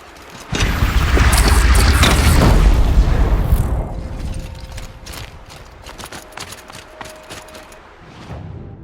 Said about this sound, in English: let's test this grenade launcher